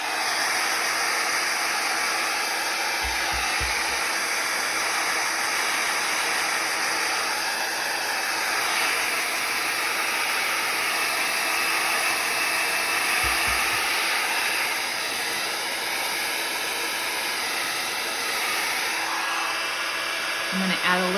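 A hair dryer blowing to dry paint on a scrapbook journal cover, a loud, steady whirring roar running continuously up close with faint thumps of handling.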